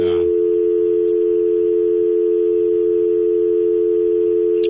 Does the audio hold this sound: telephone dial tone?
yes